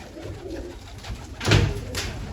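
Pigeons in a loft coo softly nearby, with a louder burst of cooing and wing rustle near the end.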